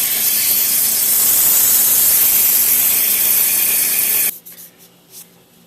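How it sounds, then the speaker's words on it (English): Sandpaper rubbing over the handle of a big knife forged from an old lawnmower blade, a loud continuous close scratchy hiss that stops abruptly near the end, leaving faint soft noises. "I'm going to sit with some sandpaper on the porch here for a bit"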